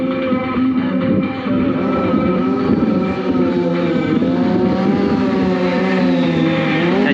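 A motorcycle engine at a Scottish motorcycle show in 2023 runs close and loud, holding a steady, rich idle with slight wavering revs and no talking over it.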